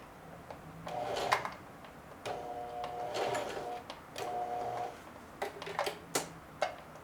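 Sewing machine stitching and back tacking a hem, short bursts of mechanical whirring that alternate with clicks and pauses, close and fairly quiet.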